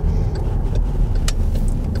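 Volkswagen Sharan Highline TDI 150 diesel people carrier heard from inside as it accelerates, a steady low engine drone with road rumble running continuously and evenly throughout.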